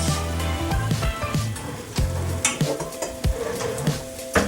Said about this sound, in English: And we're gonna let our sausage break up and brown.